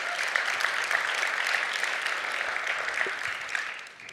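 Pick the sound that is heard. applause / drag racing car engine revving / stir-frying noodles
applause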